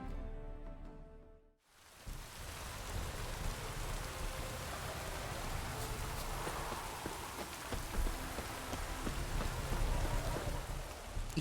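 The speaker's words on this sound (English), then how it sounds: "Looks like rain." Steady rain pours in the Witcher 3 game world, a dense broadband hiss that starts abruptly after a short quieter opening and continues evenly to the end.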